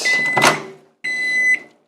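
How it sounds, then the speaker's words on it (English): A microwave oven heats instant ramen noodles: two bursts of humming, whirring appliance noise, with a short gap and a click between them, loud and close with no voices. "Then we throw it in the microwave, 4 minutes, and then we take it out"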